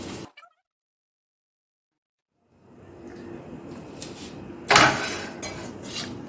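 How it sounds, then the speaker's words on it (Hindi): A spoon scrapes and clinks against a hot pan while desiccated coconut is stirred into boli, a colostrum milk sweet, with irregular metallic scraping that grows louder after a stretch of silence. "अब इसमें 1/4 कप डेसिकेटेड कोकोनट भी डाल देंगे और इसे भी मिक्स कर देंगे"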